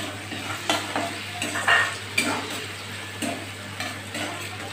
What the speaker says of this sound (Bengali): পেঁয়াজটা দিয়ে দিলাম। এবার দিয়ে দিলাম টমেটো কুচিটা